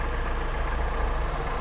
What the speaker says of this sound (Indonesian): Mesin masih hidup sahabat itu.